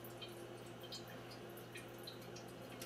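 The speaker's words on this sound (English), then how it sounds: "And then you can let that drip for a while." Cold brew coffee drips through a filter into a pitcher, with faint, irregular small drips over a low steady hum.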